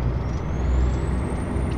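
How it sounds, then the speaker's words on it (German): Truck retarder engaging in the Euro Truck Simulator 2 video game, a steady loud low rumble of the engine brake with a thin high whine slowly rising across the clip, alone without talk. "Oh Gott, dieses Geräusch, wenn der Retarder angeht."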